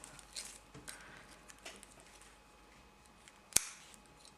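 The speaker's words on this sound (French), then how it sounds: "Une maille en l'air et on coupe le fil." Scissors snip crochet yarn in one sharp, close click near the end, after a stretch of faint handling rustle in a quiet room.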